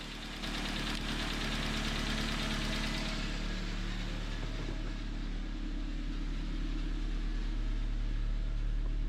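A 2005 Suzuki Aerio engine, fitted with a new alternator, idles with a steady low hum and faint knock. It runs alone and continuously, with a brighter hiss fading out after the first three seconds.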